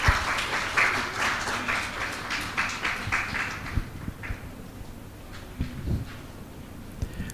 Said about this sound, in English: please give a round of applause to our Dr.